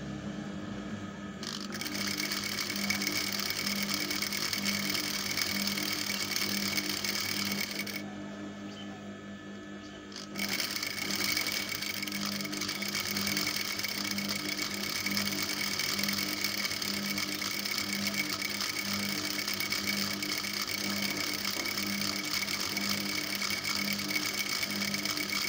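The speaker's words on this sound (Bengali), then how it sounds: "এভাবে আমি দুটা পা একসাথে মিলিয়ে সেলাই দিয়ে নেব সুন্দরভাবে" A sewing machine runs steadily while stitching two skirt-palazzo trouser legs together, a continuous mechanical whir with a short pause partway through before it resumes.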